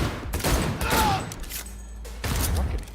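Bursts of rapid gunfire from a firefight in the video game Cyberpunk 2077, loud and close, coming in dense volleys with brief gaps between them.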